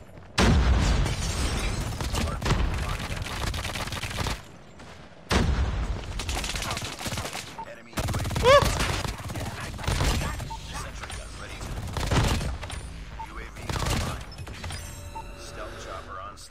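Bursts of MG42 machine gun fire in a ranked video game match, loud clattering strings of rapid shots broken by short gaps, mixed with scattered game effects.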